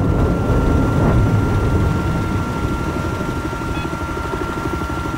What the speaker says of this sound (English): I spotted an enemy helicopter.